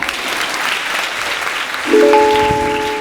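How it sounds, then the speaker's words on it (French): An audience breaks into steady, dense clapping that fills the space, with a brief tonal musical chime rising near the end. "Tu peux tous vous applaudir"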